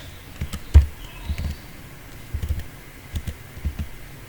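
Keystrokes on a computer keyboard while entering an SQL command, scattered light taps in short bursts with pauses, close and fairly quiet, no talking.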